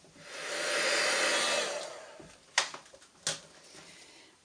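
A heat tool melts embossing powder on cardstock, a close whooshing blow that swells for about two seconds then cuts off, followed by a few sharp taps and clicks.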